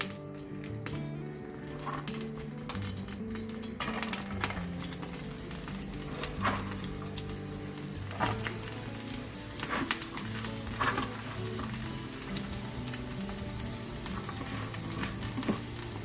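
Finely chopped onion sizzles steadily in a frying pan as it browns for borscht, a close, even crackle with occasional soft clinks of a utensil and no talking.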